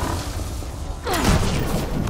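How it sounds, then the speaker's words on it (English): An explosion in the video game Mass Effect Andromeda erupts as a loud, low rumbling boom about halfway through, after a stretch of steady background game noise. "An explosion."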